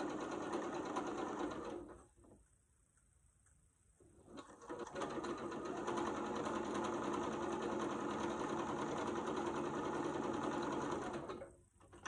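A sewing machine stitches fabric strips together for a hot pad with a 1/4 inch seam, running in close, fast bursts with a short pause early on and stopping briefly near the end.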